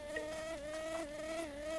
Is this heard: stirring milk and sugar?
no